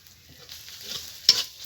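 Ground coriander and chili powder sautéing in a pan for a lau chingri (bottle gourd with prawns) curry, with a soft sizzle, a few spatula scrapes and a sharper stir near the end.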